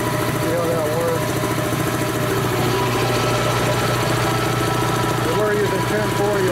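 A 7-1/2 hp Dayton Speedaire air compressor running on diesel oil, a steady loud mechanical drone with a rapid pulsing beat throughout, while someone talks over it.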